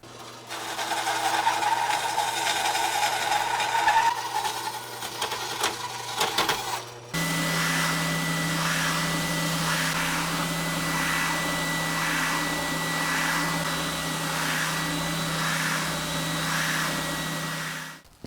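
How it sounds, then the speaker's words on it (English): A bandsaw runs steadily with a constant motor hum and a high whine while cutting wood for a Ceres Theta guitar body. The tone shifts after a few seconds and then holds, loud and close, with no talking. "Let's get to the bandsaw."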